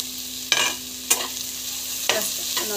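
Green chillies sautéing in a pan for biryani masala, a steady close sizzle broken by three or four scraping strokes of a spatula against the pan.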